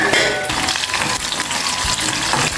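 Green chillies fry in a covered pan, making a loud, continuous sizzle and crackle with no break for the whole stretch and no voice over it.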